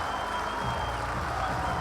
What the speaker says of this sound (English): Joyce makes his way off with a round of applause, as he should.